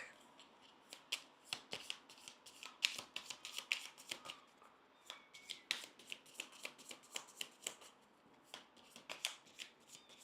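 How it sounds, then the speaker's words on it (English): Cards from a Sentinels of the Multiverse deck are shuffled over and over, quiet, close bursts of crisp riffling and slapping in an uneven rhythm, with no talking. "Shuffle your trash into your deck."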